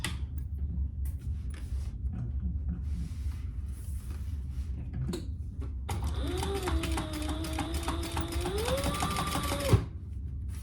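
A sewing machine bastes around a laptop bag at an eighth-inch seam with a lengthened stitch, starting after scattered handling clicks and running in a steady whirring burst of several seconds before stopping abruptly.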